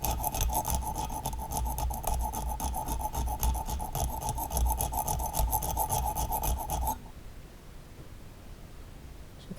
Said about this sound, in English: So I'm gonna come back over here and file